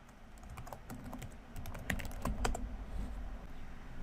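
Close, steady typing on a computer keyboard, a fast run of crisp key clicks over a low background hum, with no voices.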